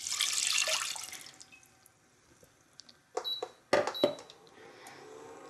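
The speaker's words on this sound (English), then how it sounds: "So now we're going to add in a cup of water." Water poured from a cup into a saucepan holding spelt, a rushing splash at first that tapers off, then a few louder clinks and knocks of the pan, with quiet room sound and no talking.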